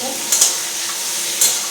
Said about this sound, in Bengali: পটলটা ভেজে দিচ্ছি